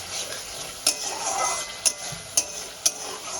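Tomatoes sautéing in oil make a continuous soft sizzle, with four sharp metallic clinks of a spatula striking the pan at irregular intervals.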